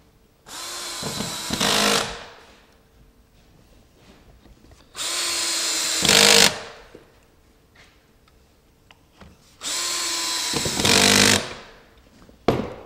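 A power drill drives pocket hole screws into trim carpentry, giving three short, loud whirring bursts that rise in pitch, each followed by quiet gaps with faint clamp and handling ticks.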